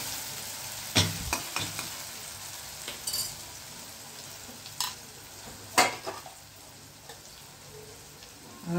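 Crushed chili, tomato and onion masala with spices frying in a pan for a Gujarati vegetable dish, a soft steady sizzle under irregular sharp clinks and scrapes of a spoon stirring, with no talking.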